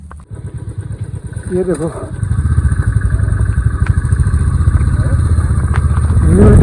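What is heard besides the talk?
motorcycle being ridden in the rain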